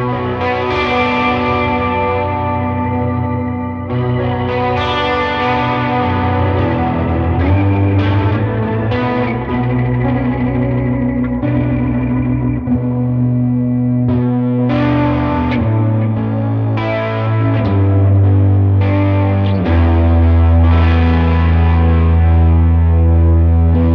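Electric guitar played through a Boss SY-1 synthesizer pedal on its organ setting, mix dialed back: sustained, chord-like organ tones layered over the guitar with chorus and slight grit, continuous and loud with no talking.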